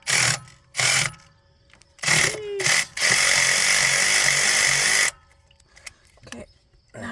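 Power tool buzzing in short bursts, then one longer whirring run, while a screw is removed during an EGR valve change on a 2008 Dodge Durango; close and loud, with brief quiet gaps between bursts.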